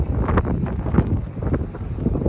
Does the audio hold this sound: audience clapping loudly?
no